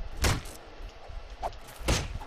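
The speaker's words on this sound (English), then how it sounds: "I hear them banging on stuff for some reason." Zombies in the video game 7 Days To Die bang on things in a house, making a few dull thuds and knocks at irregular intervals over faint ambient noise.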